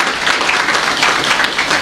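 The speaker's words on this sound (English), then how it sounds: "Another warm round of applause," A loud, close burst of warm applause from an audience at a retirement planning seminar, a thick, unbroken clatter of many hands.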